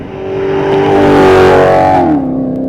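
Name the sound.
sports car exhaust revving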